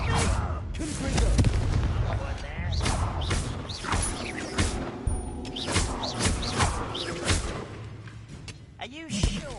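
Confringo explosive spell blasts in Hogwarts Legacy combat, a series of booming thumps and crashes amid game effects while a voice talks over the fight.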